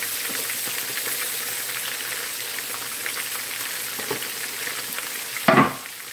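Shrimp sautéing in a skillet gives a steady, bright sizzle throughout, with a sharper burst of hissing near the end as the food is stirred or moved; no one speaks.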